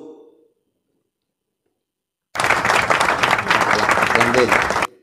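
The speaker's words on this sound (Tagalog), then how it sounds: "is applause" Canned applause from a V8 sound card bursts in after a short silence, a dense, loud crowd of clapping that runs steadily for a couple of seconds and cuts off abruptly.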